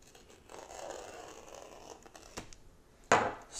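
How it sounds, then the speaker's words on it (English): A knife slices open a laptop shipping package, a scraping, tearing cut through wrapping followed by a sharp rip near the end, close and fairly quiet. "So, I got my trusty unboxing knife."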